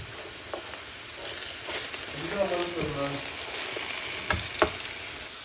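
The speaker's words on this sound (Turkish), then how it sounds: "Yumurtasını döküyorum" Beaten egg pours into a hot pan during pre-dawn sahur cooking and sizzles loudly and continuously, with faint voices and a few utensil clicks in the background.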